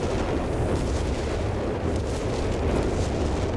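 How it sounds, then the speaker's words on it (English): Massive artillery barrage in the strategy game Company of Heroes 3: dense, continuous rumbling explosions overlap into a loud, roaring wall of booms with no pause. "Massive artillery barrage here"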